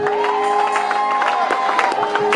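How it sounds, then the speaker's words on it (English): A church congregation claps and cheers, loud crowd noise with shouts and a sustained sung or voiced tone riding over the clapping, continuous and close. "Go ahead and give the Lord a clap"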